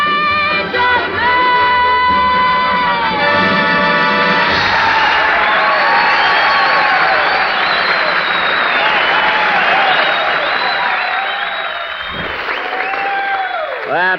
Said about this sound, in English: She got more applause than I did.